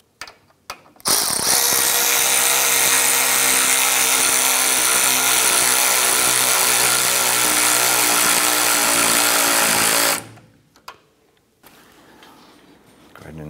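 An impact or power tool snugs down a lower ball joint nut on a 1994-2004 Chevrolet S10, a loud, steady mechanical rattle running about nine seconds without a break, then stopping with faint handling noises after.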